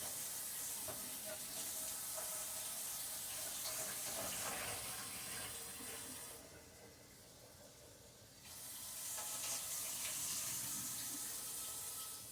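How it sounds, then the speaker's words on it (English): Tap water runs steadily over salted eggplant in a colander, a close, continuous splashing rush that drops briefly in the middle before flowing fully again. "colander and rinse that salt water off of them."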